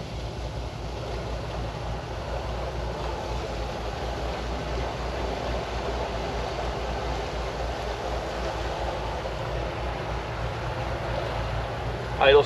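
A 1973 Bertram 28-foot flybridge cruiser idling along the Intracoastal Waterway at about five knots, its engine giving a steady low rumble and drone with water wash, constant and close.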